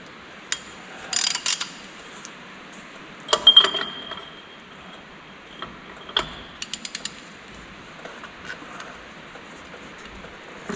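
A wrench backing off a nut on a toy wrecker, several short metallic ratcheting clicks in scattered bursts against near silence.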